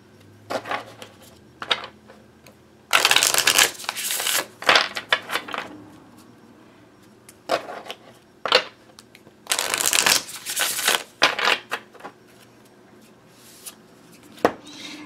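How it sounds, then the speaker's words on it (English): An oracle card deck of thick cardstock being shuffled by hand, with repeated riffling bursts in two main clusters and softer handling taps in between, close and crisp with no talk. "And it shuffles beautifully."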